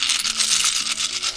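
Metal board game coins from Machi Koro Legacy jingle and clink together in a dense, close, bright shimmer that lasts just over a second, with no talking.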